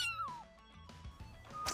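A person imitates a cat during a yoga session, giving a quick rising-then-falling meow-like call followed by softer breathy purring and small thumps, all quiet and close.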